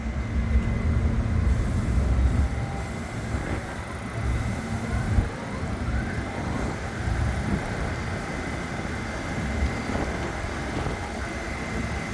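A yellow S shuttle train of the New York City subway runs at West 8 St near the aquarium, between Prospect Park and Coney Island. Its low, continuous rumble of wheels and motors stays fairly loud and even, with brief rattles and no voices.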